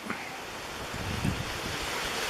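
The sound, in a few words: strong wind gusts outdoors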